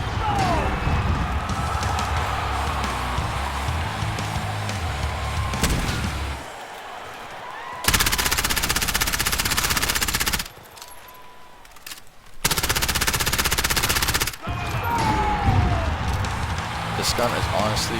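Automatic gunfire in Call of Duty: Modern Warfare Warzone, loud sustained bursts with brief pauses between them, mixed with game ambience and someone talking over parts of it.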